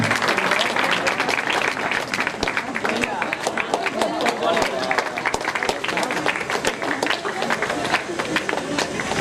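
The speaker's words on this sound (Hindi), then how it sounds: "जोरदार तालियों से स्वागत करिए सर का।" Loud, lively applause with distinct sharp claps from an audience at a computer center's annual function and cultural program, welcoming a teacher, continuing steadily throughout.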